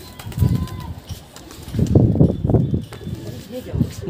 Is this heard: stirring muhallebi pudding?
no